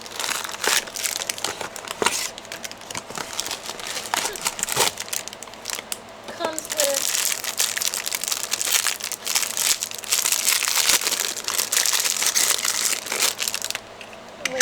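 A sticker kit package for making puffy stickers is torn and unwrapped, with loud, close crinkling and crumpling of plastic and paper in irregular bursts throughout.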